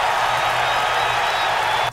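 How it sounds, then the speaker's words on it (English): A stock recording of a football stadium crowd cheering, a dense, continuous roar of many voices and some clapping, loud and unbroken for the full two seconds. "this is the sound of a football crowd cheering"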